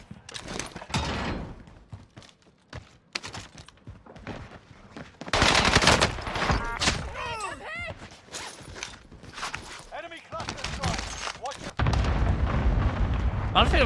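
Airstrikes on Rebirth Island in a Call of Duty game, heavy explosions and bursts of gunfire rumbling in loud clustered waves, with a voice talking over parts of it.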